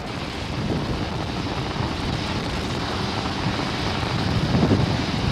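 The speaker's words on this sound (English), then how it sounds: "we're heading into the throttle bucket as we power down the Merlin engines" A SpaceX Falcon 9 climbs on its Merlin engines during a GPS III launch, throttled down through max dynamic pressure, giving a steady, loud, rough broadband rumble that swells slightly toward the end.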